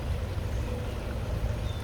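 A little tiny waterfall flowing in a natural outdoor spot, heard as a steady, full rushing wash of water close by, unbroken and alone for a couple of seconds.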